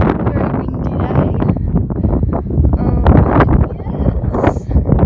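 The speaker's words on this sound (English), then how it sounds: "Very windy day." Strong wind buffets the microphone at a campsite, a steady rough roar with gusty swells throughout, while people talk nearby.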